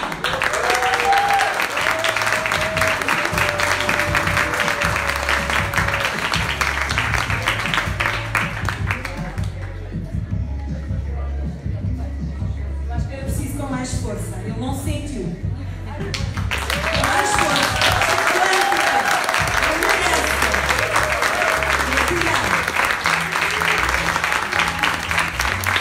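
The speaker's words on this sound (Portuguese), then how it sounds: "uma salva de palmas para o professor Wallace Lima" An audience at a happiness congress applauds a professor in two long bursts of dense clapping separated by a quieter stretch, with music and voices running underneath.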